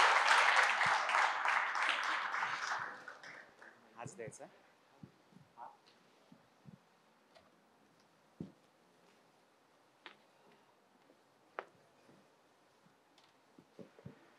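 Applause from the audience at a Marathi film trailer launch rises loudly at the start and fades after about three seconds. Scattered claps and faint voices continue afterward.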